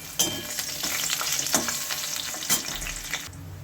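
Bay leaf, dry red chilli and garlic crackle and sizzle in hot tempering oil for a mud-style fish head rice dish, a steady close hiss punctuated by a few sharp pops and stirring scrapes.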